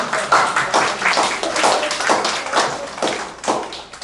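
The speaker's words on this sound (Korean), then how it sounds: "박수 한번 드려야 되죠. 박수." Lecture audience clapping on cue, a lively burst of hand claps with uneven rhythm, fairly close and loud, rising and falling across the few seconds without speech.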